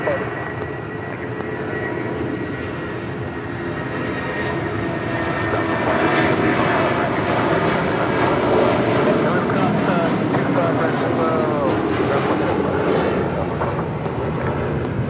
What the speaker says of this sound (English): This is United Airlines 2039 departing to Chicago here on a 757-300.